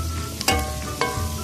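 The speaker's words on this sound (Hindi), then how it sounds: "तो चमचा चलाएंगे हम" A spoon stirs onions and spices frying in a pan for a vegetable curry. Steady close sizzling runs throughout, broken by two sharp scrapes of the spoon against the pan.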